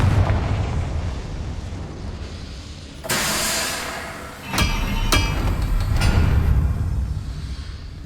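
Confringo explosive spell in Hogwarts Legacy on Xbox Series X, a loud blasting burst followed by sharp cracking impacts and a rumbling explosive tail, with game ambience around it.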